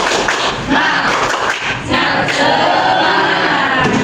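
Schoolchildren in a classroom doing the 'tepuk semangat' rhythmic clapping ice-breaker, a loud burst of group claps and shouted voices in quick patterned bursts.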